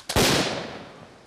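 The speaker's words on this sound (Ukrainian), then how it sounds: "Граната з фронту!" A single sharp grenade blast goes off during a tactical training drill, close and loud, with its boom fading over about a second.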